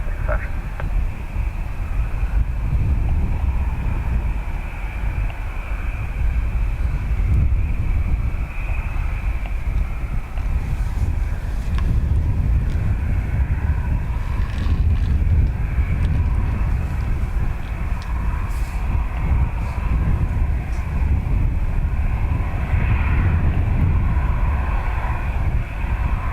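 A Turkish Airlines Airbus A350 takes off at Dublin Airport, its engines producing a steady, loud broadband roar that holds throughout, with wind buffeting the microphone and faint radio-style talk over the top.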